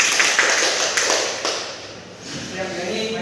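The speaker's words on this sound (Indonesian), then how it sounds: "tepuk tangan dulu untuk Pioni." A classroom of students claps for a classmate, a short burst of light, scattered applause mixed with chatter that tapers off within a few seconds.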